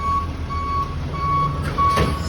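A reversing garbage truck sounds its backup alarm in clear, evenly spaced electronic beeps over a low engine rumble, fairly near and loud.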